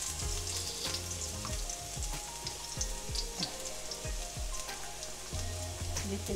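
Garlic sizzles and crackles in hot olive oil in a pan, a loud, continuous frying hiss with rapid popping, heard close up without any talk.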